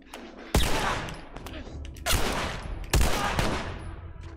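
Gunfire bursts out in The Last of Us during a Pittsburgh fight, three loud sharp volleys each trailing off into a reverberant decay, with quieter shots scattered between them.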